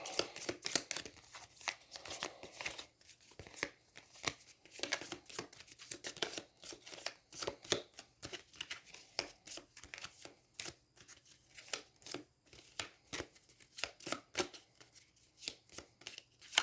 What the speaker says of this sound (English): Then shuffle her discard pile into her deck.